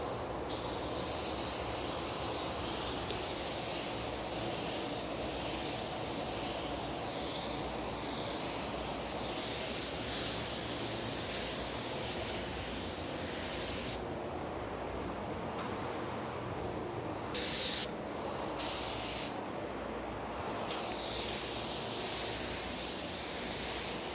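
Spray gun shooting black solvent-based paint onto a car, a loud steady hiss of atomized paint running almost continuously, with several brief pauses near the end as the trigger is released and pulled again.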